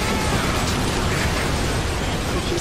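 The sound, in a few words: plasma cannon shot in video game Earth Defense Force 5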